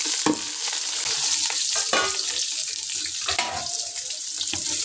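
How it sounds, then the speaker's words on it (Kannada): Chopped onion frying in a pan and being stirred, a continuous bright sizzle broken by scraping stirring strokes, near and with no talking. "ಒಂದು ಗೆಡ್ಡೆ ಈರುಳ್ಳಿ ಹಾಕ್ತೇನೆ"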